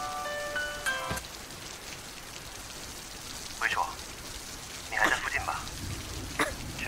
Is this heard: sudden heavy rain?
yes